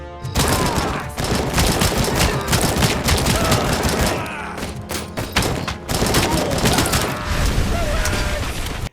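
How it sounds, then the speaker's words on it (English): Robocop Rogue City first-person shooter gameplay with rapid bursts of gunfire, heavy thuds and mechanical clanks as enemies' heads pop, dense and loud almost throughout with a brief lull midway. "sound of the popping of your enemies' heads as you essentially shoot them in the head and their heads basically explode"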